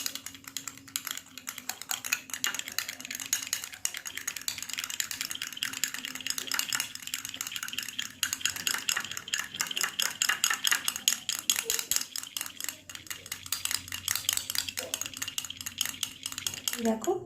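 Homemade anti-dandruff hair oil ingredients and a vitamin E capsule being stirred together in a small container, a quick continuous clicking and rattling of a utensil against the vessel, close and fairly busy throughout.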